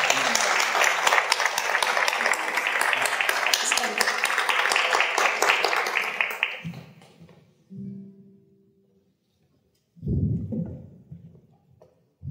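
A live show audience breaks into loud, dense applause to welcome a young fretless-instrument musician named Cenk. The clapping lasts several seconds, then fades into quieter stage sounds.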